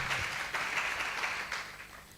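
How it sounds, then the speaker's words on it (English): Audience clapping at a Kenyan affordable housing event, a dense patter of many hands that holds steady and then tapers slightly toward the end, with no speech over it. "Please clap for him as he comes."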